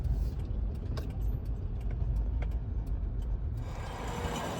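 A truck towing a trailer pulls onto quarry weigh scales, its engine a steady low rumble close by with faint rattles, then a brighter rush of noise near the end.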